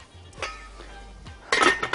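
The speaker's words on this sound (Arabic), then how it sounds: "هغطي عليه" A metal lid is set over a pot of sayadieh rice on the stove, giving a couple of soft knocks followed by a louder metallic clatter and clink close by in a kitchen.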